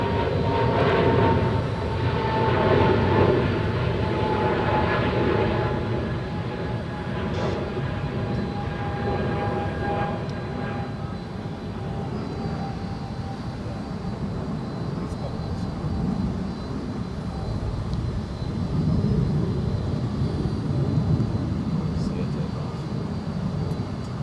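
A jet airliner takes off from a runway at Dallas-Fort Worth International Airport with a loud, steady broadband roar that lasts throughout, while radio voices talk over it.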